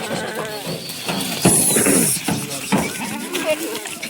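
Kathiawadi goats bleat several times at close range at a livestock sale, the calls rising over a busy background of people talking.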